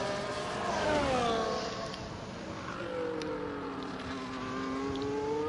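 F1 car engine in the F1 24 racing game on a lap of Bahrain, a steady high-pitched whine rising and falling in pitch through gear changes, continuous and fairly loud.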